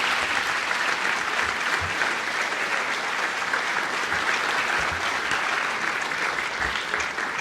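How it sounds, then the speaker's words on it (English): An audience at a senior salute event applauds graduating seniors with steady, dense clapping that holds at full strength throughout, no voices standing out. "let's give these young people another round of applause"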